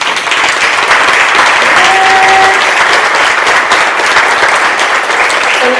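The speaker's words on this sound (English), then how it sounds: "so let's get a round of applause now." A staff meeting audience applauds loudly and steadily for about six seconds as colleagues stand up in front of the room, with a dense wash of clapping throughout.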